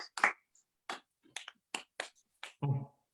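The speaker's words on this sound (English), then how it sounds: "Claps all round." A handful of people clap at the end of an election results night broadcast, about eight sparse, separate claps spread over three seconds in a quiet room, with a brief murmur at the close.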